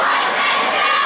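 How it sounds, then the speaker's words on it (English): Dense, loud roar of a high school basketball crowd cheering and shouting at a Valley boys game, a steady wall of voices with no single sound standing out. "Valley crowd still in it here."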